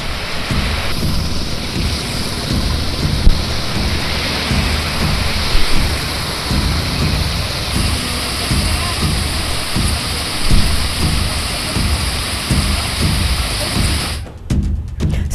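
Heavy, unbroken rain pours down in Srikakulam, a dense, loud hiss with a low rumbling undertone that holds steady throughout, then thins abruptly near the end.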